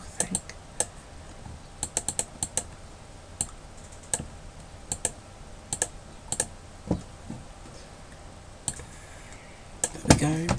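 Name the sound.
computer mouse clicking while recoloring an image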